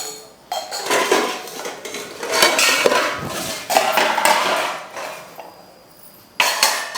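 Metal pots, cutlery and glasses clatter and clink as they are rummaged through, in loud irregular bursts that die away briefly and then return near the end.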